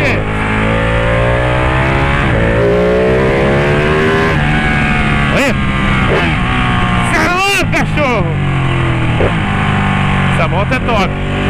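A Ducati Panigale 1199 superbike engine revs loud and close, pitch climbing and falling through sustained throttle pulls with sharp blips, while someone talks over it.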